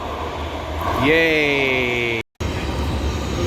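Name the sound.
metro train approaching station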